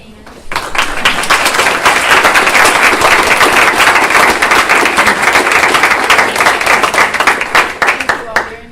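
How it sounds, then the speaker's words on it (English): A loud, full wave of applause fills a school board meeting room as the audience claps for parents, dense and sustained for about eight seconds before tapering off quickly. "let's give them a round of applause for all of their support of their students"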